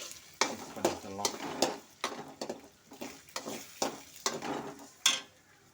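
A single salted egg is stirred and scraped in a frying pan for egg rice. Repeated utensil strokes land every half second or so over a soft sizzle, close and clear.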